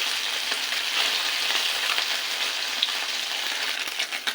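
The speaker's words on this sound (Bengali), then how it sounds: "এই মাছটা ভাজা হয়ে গেছে" Small fish sizzling in hot oil in a pan, a steady close crackle with brief pops throughout, no voices.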